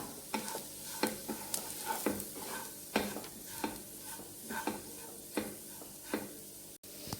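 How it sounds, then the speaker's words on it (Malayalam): Garlic pickle with Kashmiri chili powder being stirred in a pan, a spoon scraping and knocking in a steady rhythm over a continuous sizzle of frying oil, close up and without voices. "നന്നായിട്ട് നമുക്കിതിനെ ഒന്ന് മിക്സ് ചെയ്ത് പച്ചപ്പൊക്കെ ഒന്ന് മാറുന്നത് വരെ ജസ്റ്റ് ഒന്ന് ഇളക്കി കൊടുക്കുക"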